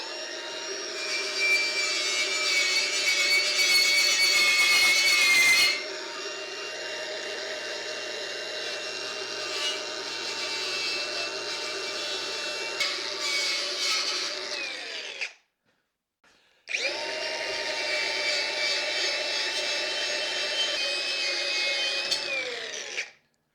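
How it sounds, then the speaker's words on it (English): A wire wheel grinds paint off square steel tubing, a loud, steady high-pitched whine with abrasive scraping that shifts in tone, cuts out briefly near the end, then resumes. "let's get this cleaned up with a wire wheel, get the paint off, clean metal"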